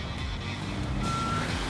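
Dump truck in the Construction Simulator video game, with a steady engine drone and a single short electronic reversing beep partway through. No talk.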